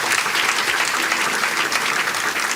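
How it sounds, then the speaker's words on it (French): A church audience at a deliverance gathering breaks into sustained applause after a testimony, with dense, even clapping from many hands throughout. "Acclamez pour ce témoignage encore."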